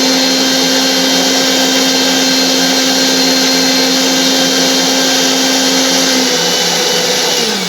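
Kitchen blender churning cultured buttermilk to bring the butter up for homemade ghee, a loud steady motor whir running without a break, close by, with no talk over it.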